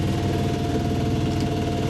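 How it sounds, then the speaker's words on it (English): A Contessa 26 sailboat's inboard engine runs steadily at idle, a continuous low throbbing drone with even mechanical vibration, close and alone without voices. "we can hear the engine running"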